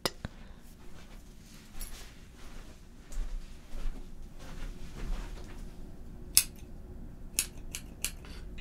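Scissors snipping hair at the back of a client's head during a haircut, a run of light, crisp metallic snips clustered near the end over a low steady background hum.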